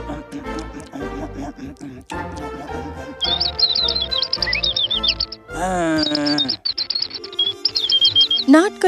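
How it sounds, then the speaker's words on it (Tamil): Loud, noisy bird chirping in quick bright trills and tweets, layered over music and voices. "என்ன ஒரு எரிச்சல் ஊட்டும் மற்றும் சத்தம் போடும் பறவை!"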